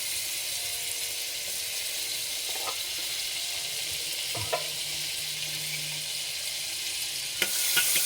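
Butter sizzles in a heated pan at the start of a chicken stew, a steady soft frying hiss with a few faint clinks and a brief louder crackle near the end.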